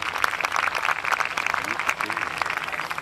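Crowd applause at an outdoor fireworks show at the Château de Saint-Jean-d'Angle, a dense, steady wash of many hands clapping that fills the whole stretch at even loudness.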